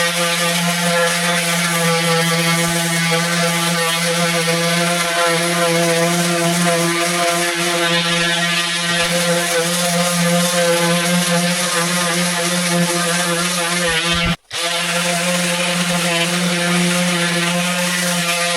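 Continuous loud buzzing of a power sander cleaning dirty tile, a steady close whine with a brief cutout near the end before it resumes.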